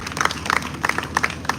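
An audience at a folklife festival concert on the National Mall in Washington, DC claps briefly for the stage crew, a short burst of distinct, scattered handclaps close by.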